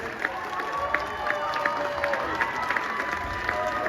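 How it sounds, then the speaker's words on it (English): Audience applause with cheering for the top finalists at the Mister USA 2025 pageant in Hollywood, a dense steady clapping crowd throughout the few seconds. "we need to keep that round of applause going for all the contestants back here who did make the top 20"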